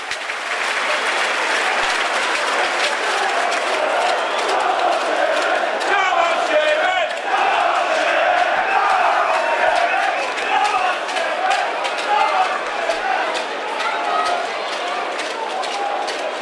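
Football stadium crowd at an FC Halifax Town versus Cambridge United match roars and applauds in a sustained, dense wash of noise that swells and dips slightly across the whole stretch without letting up.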